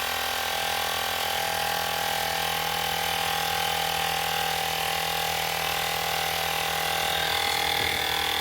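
A 160 PSI portable tire inflator pumping up a tire runs as a steady, loud buzzing motor hum with a constant rattling drone, continuous throughout with no speech.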